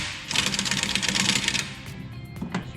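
Impact or power tool spinning off the lower strut nut on a Subaru Outback with a 17 mm socket, a dense rapid buzzing burst lasting over a second, then trailing off into quieter clicks and handling noise.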